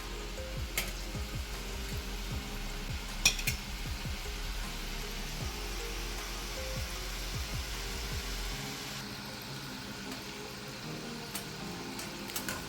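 Murukku deep-fries in hot oil and is turned, giving a continuous close sizzle and crackle with scattered bubbling pops and a few soft scrapes of a spoon, then settling to a slightly quieter hiss.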